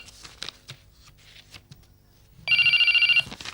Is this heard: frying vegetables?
no